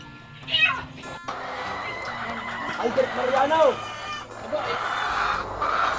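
Ready-to-lay hens cluck and a rooster crows on a farm, fairly close and loud, with a voice speaking over the poultry noise.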